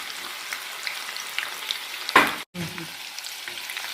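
Chickpea manchurian coating crackles and sizzles steadily in hot oil in a pan, with a brief stirring scrape and a short gap midway.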